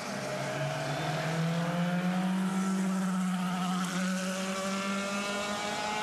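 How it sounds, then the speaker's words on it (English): IndyCar race car engine at Indianapolis 500 Bump Day droning steadily as the car pulls away in gear, a continuous loud tone that rises slightly in pitch. "Well, the engine's fired. Car's in gear."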